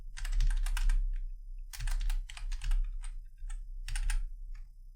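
Close-up typing on a computer keyboard while naming a stylesheet file, clicking keystrokes in several quick bursts separated by short pauses over a low steady hum.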